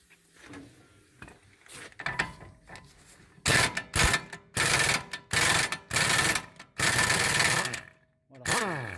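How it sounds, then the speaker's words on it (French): Pneumatic impact wrench working the wheel hub nuts on a Dodge Journey during a wheel bearing replacement, heard as several loud, close bursts of hammering rattle with short pauses between, after quieter tool handling. "On va utiliser le pistolet à choc."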